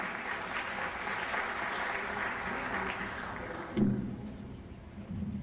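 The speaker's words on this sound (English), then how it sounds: "Give up a round of applause for Dr. Barraza." Audience applauding at a Martin Luther King Jr. Day ceremony in Yakima as the school superintendent is called up to present an award, a dense steady wash of clapping that thins and fades near the end.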